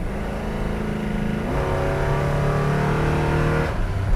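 A restored 1967 Ford Fairlane 500 XL hardtop coupe accelerates with a steady engine roar that rises in pitch through one gear change, heard loud and close from inside the car with no talking.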